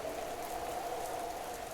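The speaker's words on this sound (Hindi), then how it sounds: "उस दिन बारिश हो रही थी," Steady rain falls in a continuous, even hiss that stays constant at moderate loudness without pauses or other sounds.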